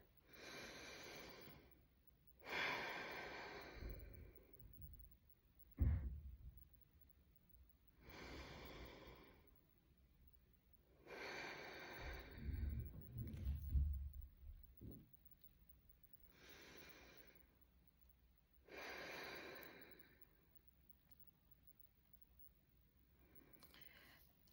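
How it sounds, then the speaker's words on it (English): A nervous person takes a few deep breaths, slow breathing with audible inhales and exhales repeating about five or six times in a steady rhythm, close and fairly quiet, with one sharp snort-like puff partway through. "Let me take a couple deep breaths."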